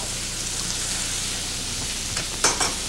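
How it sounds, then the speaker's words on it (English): Onions frying in a pan, a steady close crackling sizzle with a couple of brief stirring clatters near the end. "We want our onions to cook."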